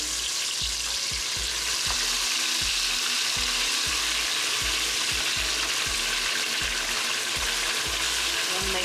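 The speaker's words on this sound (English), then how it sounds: "So we're gonna add everything into the oil. From the vegetables to everything." Vegetables and chicken for Jamaican brown stew chicken fry in hot oil over medium to medium-high heat, a loud continuous sizzle broken by a steady run of spoon taps and scrapes against the pot.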